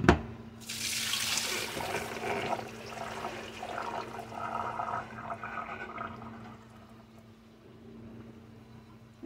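Water streams into canning jars of soaked Great Northern beans for pressure canning, a rushing pour that starts strong, softens into a gurgling trickle and fades near the end.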